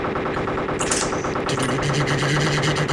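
Rapid automatic gunfire rattles in the military video game Arma II, a loud, dense stream of shots that runs continuously and up close, with a brief higher whoosh partway through.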